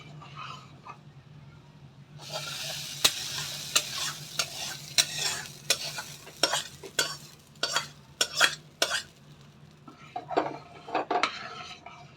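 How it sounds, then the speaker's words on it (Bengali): A spoon stirs a pot of vegetable khichuri for several seconds after the tempering has been poured in, with irregular scrapes and clinks against the pan over a faint sizzle and a low steady hum. "আস্তে করে তড়কাটা আমি ঢেলে দেব, দিয়ে হালকা হালকাভাবে খিচুড়িটা আমি নাড়তে থাকবো"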